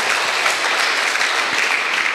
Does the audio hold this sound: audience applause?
yes